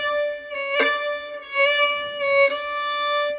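Bowed string notes played with speeded accents, using more bow and extra pressure: a held tone broken by a few sharp, bright attacks, each followed by a sustained note, close and solo.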